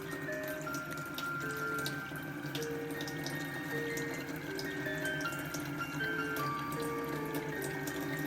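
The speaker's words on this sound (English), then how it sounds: "Just let that fill up. Yeah, the excess flows over, and the rest just goes in there." A PhiPower water ionizer runs a steady stream of alkaline water into a cup, a constant trickle and splash with the excess overflowing, heard alone at a low, even level.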